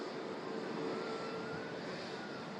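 A Ryanair airliner climbs out from Manchester Airport, a faint, distant, steady engine roar with no distinct peaks.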